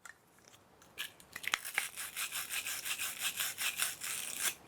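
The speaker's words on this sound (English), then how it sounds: "Both of these are deburring tools, both of them." A deburring tool scrapes around the inside of a copper pipe in a plumbing job, making quiet, rhythmic raspy strokes, close and soft, with a sharp click early on.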